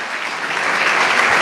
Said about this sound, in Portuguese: Louve a Jesus com as suas palmas. Palmas de vitória, palmas de vitória.